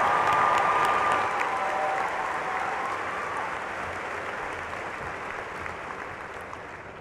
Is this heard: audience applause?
yes